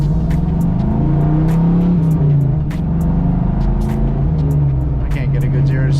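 Engine of an LS-swapped Jeep droning loudly from inside the cab while driving, the low rumble rising and falling as it accelerates, with brief higher noises over the top.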